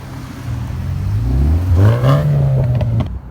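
A Ferrari F8 Tributo pulls back in nearby, its engine note rising from a low idle rumble into a short, loud rev before settling again as it rolls past.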